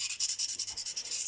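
A cheap knife being sharpened by hand, likely stroked on a stone: quick, even rasping strokes at a steady rhythm, close and fairly quiet, with no voices.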